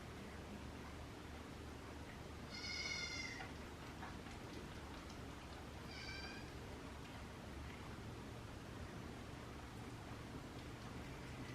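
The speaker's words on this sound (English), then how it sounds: "I really think this is the way to raise dairy goats." A young dairy goat kid bleats twice, faint and high, on a farm amid a steady hiss of background noise.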